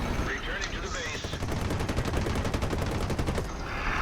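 Spitfire Mk.1a machine guns in a video game fire in a sustained rapid burst, a dense run of evenly spaced loud reports lasting a couple of seconds before cutting off, with a brief voice beneath.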